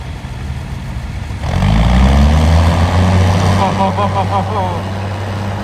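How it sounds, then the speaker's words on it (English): A big tractor's large diesel engine starts up and settles into a deep, loud idle nearby at a county fair tractor pull, a heavy rumbling drone with people talking over it. "That is a big tractor."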